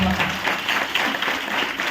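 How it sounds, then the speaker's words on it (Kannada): A church congregation in Bidar claps together, a thick, brief burst of many hands in a rough rhythm with voices mixed faintly beneath. "ಚಪ್ಪಾಳೆ ತಟ್ಟಬೇಕು"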